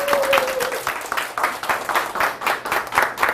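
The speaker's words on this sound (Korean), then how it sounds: "오늘은 여기 선택하신 이 세 분을 위해서 큰 박수 부탁드립니다." An audience at a sales leadership lecture gives applause for three chosen team leaders, a broad patter of clapping that swells in uneven waves, with a brief whistle-like tone near the start.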